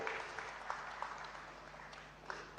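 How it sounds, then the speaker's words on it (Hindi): Audience applause at an award ceremony where the Governor of Bihar honours guests, a steady wash of clapping that fades slightly, with a low hum underneath and no speech. "जोरदार तालियों से आप सब इनका धन्यवाद दें।"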